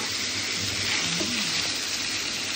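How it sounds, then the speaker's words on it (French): Sausages fry in a pan over high heat, giving a steady, dense sizzle that stays even and close throughout, with no voices. "j'ai mis à fond le feu, pour qu'elles puissent dorer"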